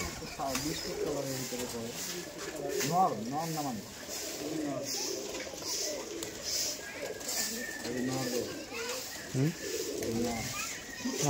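Giribaj pigeons from Rajshahi coo in repeated soft warbling phrases, close by, while people talk intermittently over and between the calls.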